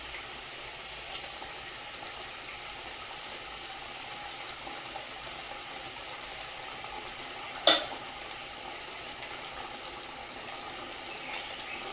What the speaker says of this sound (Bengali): ঝোলটা ফুটে গেছে, ভেজে রাখা মাছগুলো দিয়ে দেবো